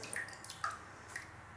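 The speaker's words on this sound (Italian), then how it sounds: "sciacquatina in acqua" A horsehair shaving brush gets a quick rinse in water, giving a few faint, brief drips and splashes spread over under two seconds, with no one talking.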